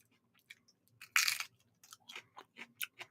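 Crunchy food is bitten and chewed up close, with one loud crunching bite followed by a string of shorter, sharp crunches in a quiet room.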